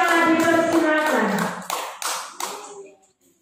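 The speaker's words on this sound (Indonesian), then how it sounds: "Mari kita berikan tepuk tangan yang meriah." An audience at a children's Bible reading contest claps as a participant is introduced; a host's voice speaks first, then several sharp claps fade out toward the end.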